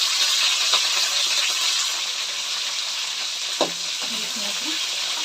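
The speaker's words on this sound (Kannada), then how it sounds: "ಇವಾಗ ಕರಿಬೇವಿನ ಸೊಪ್ಪು ಹಾಕ್ತಿದ್ದೀವಿ" Curry leaves hit hot oil with green chillies in a pan for egg rice, giving a loud, steady frying hiss that eases slightly midway, followed by a few stirring clinks and a brief voice near the end.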